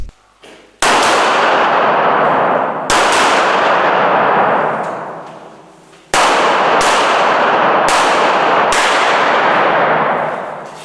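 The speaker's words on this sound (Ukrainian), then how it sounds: "Далі поліцейські подвоє стріляли в мішені." Sharp, loud gunshots from police firing at targets on a shooting range crack one after another at irregular intervals, several in quick succession, each followed by a long ringing echo, with no talking.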